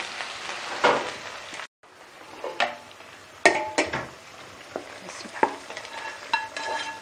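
Vegetables stirred in a kadhai (wok) for a Chinese-style chicken almond dish: loud, close scraping strokes of a spatula over a steady sizzle, coming in irregular bursts with a brief pause near the start, no voices.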